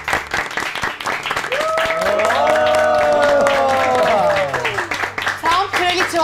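Studio audience applause breaks out in a steady wash of clapping on a television show set, loud and sustained for several seconds while music swells and a host talks over it.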